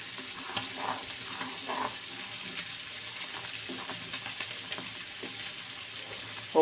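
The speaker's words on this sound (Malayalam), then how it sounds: "രസം തിളച്ച് വന്നിട്ടുണ്ട്" Rasam boils in a pot on the stove with a steady, close bubbling and hissing sizzle, broken by faint soft clinks, and no one speaks.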